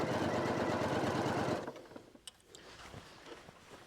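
A sewing machine stitching a pocket hums steadily up close for about a second and a half, then stops, leaving faint clicks and handling noise.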